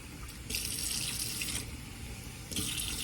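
Tap water runs into a kitchen sink in a steady hiss that stops briefly and starts again, close and alone, with no talk.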